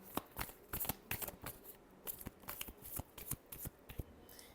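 Tarot cards are shuffled by hand in a rapid series of crisp riffling flicks and soft slaps, close and fairly quiet, with no talking.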